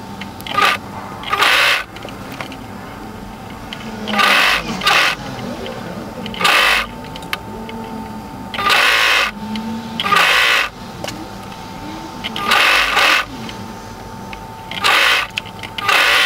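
Sewing machine stitching the sleeve seam of a turtleneck tunic, short bursts of rapid mechanical whirring separated by pauses, close and clear, with soft handling noises in between.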